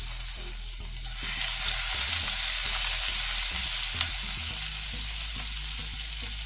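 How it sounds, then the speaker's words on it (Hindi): Chopped garlic and cumin fry in refined oil in a hot kadai, a steady close sizzle and crackle that holds throughout with faint stirring clicks and no talk. "इसमें ऐड करेंगे रिफाइंड ऑयल, जीरा और अब इसमें ऐड करेंगे बारीक कटा हुआ लहसुन।"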